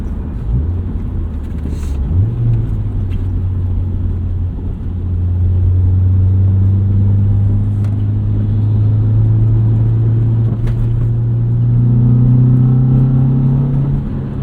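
A 2001 Honda CR-V with a manual gearbox accelerates on the road, its engine note rising steadily and pulling through the gears with a loud, close, continuous rumble and no voices.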